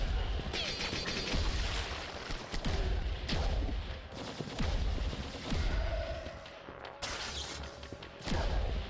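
Berserk power-up weapon firing in the retro revival shooter Herald of Havoc: a rapid, dense stream of loud gunfire blasts and crashing impacts, punchy and close, continuing for several seconds.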